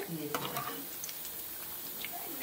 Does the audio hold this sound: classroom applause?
no